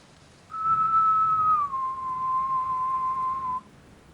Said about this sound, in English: The whistle was close.